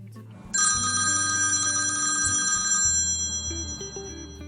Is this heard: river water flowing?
no